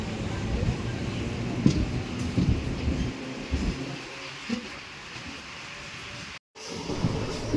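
A Guntur to Repalle MEMU passenger train runs with a steady broadband rumble and rattle throughout, carriage noise filling the background under occasional faint voices.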